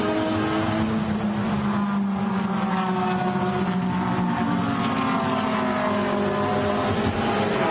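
Red Ferrari GT race cars in a Blancpain GT Sports Club qualifying race at Circuit de Catalunya, Barcelona, a steady loud engine roar with a sustained tonal drone that holds throughout, no voices.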